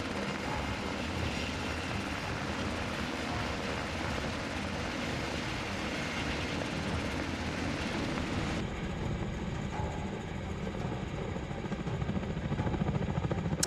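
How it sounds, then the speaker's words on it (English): A Black Hawk helicopter working on a tree removal job drones steadily and continuously at a distance, a broad constant rotor and engine roar with no voices over it. "The Blackhawk helicopter is a very iconic aircraft."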